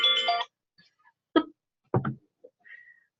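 A mobile phone going off indoors with a short tonal ringtone that ends abruptly, followed by a few sharp handling knocks and a faint sustained tone, all close and clear.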